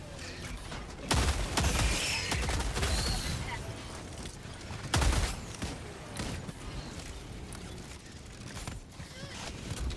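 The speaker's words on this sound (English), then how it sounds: "Let's go back and do the artillery." Heavy, booming impacts from artillery strikes in the video game Helldivers 2, with two especially loud broadband blasts and a dense, continuous rumble of gunfire and mechanical clatter in between.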